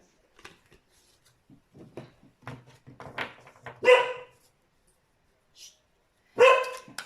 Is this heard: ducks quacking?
no